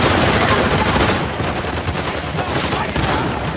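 Dense, loud shotgun fire and surrounding gunfight in Uncharted: The Lost Legacy, rapid blasts overlapping continuously with no pauses, close and heavy throughout.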